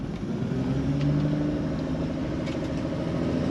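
A 1968 Pontiac Firebird Sprint with the rare OHC-6 engine and a Weber carburetor setup, heard from inside while cruising, a steady low engine drone with a faint rev rise and road rumble, no talking.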